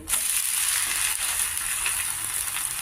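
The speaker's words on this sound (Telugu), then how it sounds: "తిప్పుకొని కొద్దిగా కాల్చుకోవాలి" Wheat rava dosa roasts in oil on a pan after flipping, giving a steady, close, bright sizzle that holds evenly throughout with faint scraping underneath and no talking.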